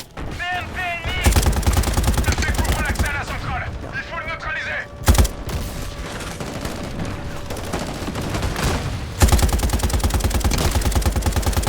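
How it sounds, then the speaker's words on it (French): Machine gun fire in the Modern Warfare video game campaign, long rapid automatic bursts with a sharp blast in the middle, a brief pause, then another sustained volley; a player's voice exclaims briefly at the start. "Oh, c'est quoi ça? Mitrailleuse."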